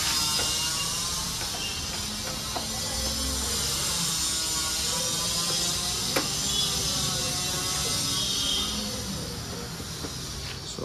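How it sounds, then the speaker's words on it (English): Two screws being unscrewed from the ignition lock set of a TVS Ntorq scooter, heard up close as a continuous ratcheting, clicking mechanism over a steady hiss, with occasional sharper ticks and no talking. "So unscrew these two screws."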